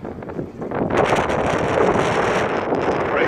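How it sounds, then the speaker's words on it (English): Strong wind gusts across an open outdoor spot at a memorial site, roaring steadily into the microphone as a loud, continuous broadband rush that swells after the first second. "I can't use my phone much because it's so windy today."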